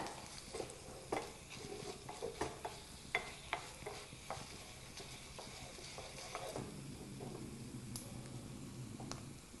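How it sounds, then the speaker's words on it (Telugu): Dry red chillies, urad dal and peppercorns roasting in a pan on a stove, with a soft dry sizzle and a series of scraping stirring clicks, fairly faint and steady, no talking. "ఇప్పుడు ఎండుమిర్చి మినపప్పు మిరియాలు ఇవన్నీ కూడా కొంచెం బ్రౌన్ కలర్ వచ్చేంత వరకు వేయించుకోవాలి"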